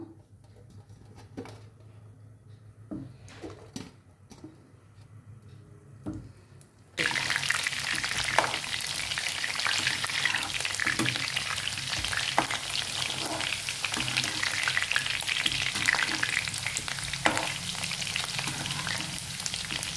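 Amla pieces drop into deep oil and start frying, the quiet kitchen suddenly bursting into a loud, dense, continuous sizzle that stays strong and close for the remaining stretch.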